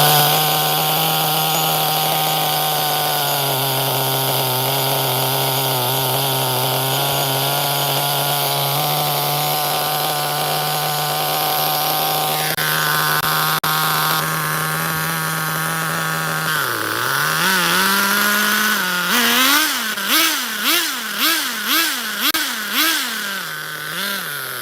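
A small HPI Nitro MT 18SS nitro RC truck engine drones at a steady buzzing idle that sags lower, then revs in a series of sharp, rising and falling blips near the end, loud and close.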